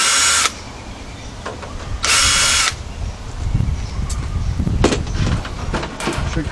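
Power drill backing screws out of the back of a computer tower's power supply, two loud whirring bursts of about half a second each, followed by rattling and handling clatter, close up.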